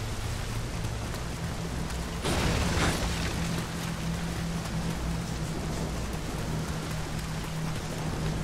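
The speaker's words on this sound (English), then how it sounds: "No need to be sitting in the rain." Continuous rain patters down in the video game Nioh, a constant broadband hiss with a brief louder surge of splashing or mechanical noise partway through, then settling back to the same steady downpour.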